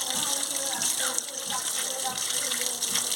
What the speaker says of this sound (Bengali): এবারে ধুয়ে ভালো করে ধুয়ে নিচ্ছি